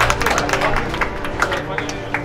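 Crowd applause at a charity fight weigh-in: a brief burst of scattered clapping from a gathered audience, mixed with an announcer's voice.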